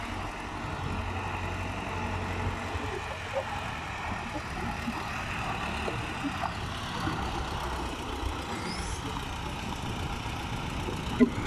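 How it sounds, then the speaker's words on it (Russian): A tractor engine idles at low revs while reversing in a village, a steady mid-level rumble and hum running throughout with faint background sounds, and a voice is heard talking nearby. "Трактор задом-задом подъезжает."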